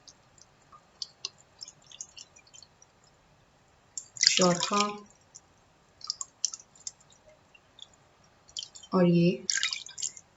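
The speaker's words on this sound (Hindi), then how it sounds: "5 कप पानी जो है वो इसमें मैंने डाल लिया है अच्छे तरीके से" Water is poured cup by cup onto soaking wheat dough in a home kitchen, making two short splashing bursts with faint drips between them, under a woman's speech.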